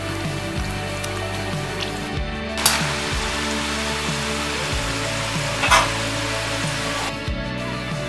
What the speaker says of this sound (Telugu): ఇలా మనం చేసి పెట్టుకున్న గవ్వల్ని ఇలా అన్నీ ఫ్రై అయ్యేంత వరకు ఫ్రై చేసుకొని చూడండి